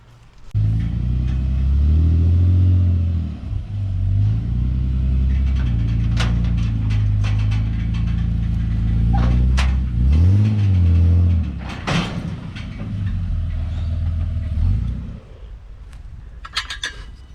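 A Ute engine idles and revs in short bursts as the car is driven onto a car trailer, loud and close, with metallic clinks and knocks near the end as it settles; no talking.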